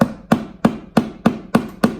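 Seven sharp hammer blows land at a steady, even pace, each a crisp knock close by, with no talking.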